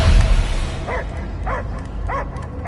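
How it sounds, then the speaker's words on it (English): A dog barks in the Marvel's Guardians of the Galaxy video game, three short evenly spaced barks over a loud rumbling background, with no voices. "I hear only barking."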